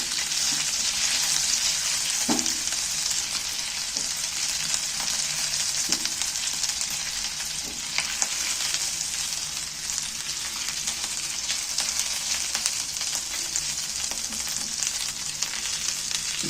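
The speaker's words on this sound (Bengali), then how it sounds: "সামান্য একটু তেলের মধ্যে একটু নাড়াচাড়া করে নেবেন" Ginger garlic paste sizzles and crackles steadily in a little oil in a pan, with occasional soft scrapes of a spoon stirring, continuous and close, no talking.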